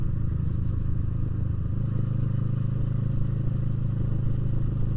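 A Kawasaki Versys 650 motorcycle with a carbon aftermarket exhaust idles steadily with a deep, smooth, throaty exhaust rumble that holds constant throughout, close by.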